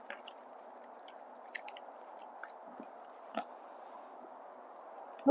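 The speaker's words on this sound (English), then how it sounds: "you're still chewing, huh?" A dog chews a food treat during a training session: soft, intermittent wet chewing and small clicks close by over a steady low hum, with one louder bump at the end.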